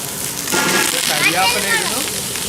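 Sliced onions hit hot oil in a pan for buffalo meat perelan, setting off a loud, steady broadband sizzle that starts abruptly and holds throughout with faint crackling.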